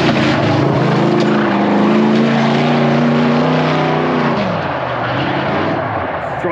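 A street stock race car runs laps on a track, its engine a loud, steady droning roar that holds a sustained pitch before dropping as the car eases off, with no talk over it.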